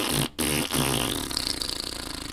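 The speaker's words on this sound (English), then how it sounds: "Man should be able to fart in his own home." A long, loud, comedic fart rumbles and sputters close up in a home, with a brief break near the start before it trails off into a fluttering rattle.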